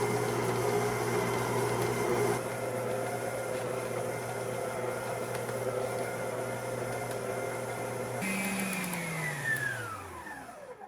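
An electric stand mixer fitted with a paddle attachment runs for buttercream, a steady motor whir that drops in pitch and winds down near the end, with no voices.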